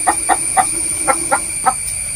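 Chickens in a coop where a cobra got in, giving six evenly spaced, fairly loud clucks over a steady high electrical hum.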